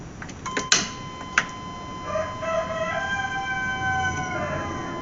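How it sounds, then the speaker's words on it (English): A rooster crows in the distance outdoors near a truck being repaired, a drawn-out wavering call following a couple of sharp clanks. "a rooster crowing"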